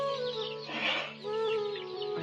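Chickens (young birds) cluck and squawk close by, one call swelling louder in the middle, with the flock's chatter continuing around it.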